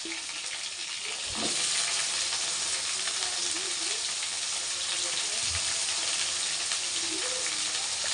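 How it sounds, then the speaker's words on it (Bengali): Potatoes frying in hot oil for aloo dum, a steady loud sizzle that runs unbroken throughout, with a few faint clinks of a utensil against the pan. "আলুটা লাল লাল করে ভাজা হয়ে গেলে"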